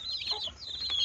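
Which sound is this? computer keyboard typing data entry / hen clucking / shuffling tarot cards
hen clucking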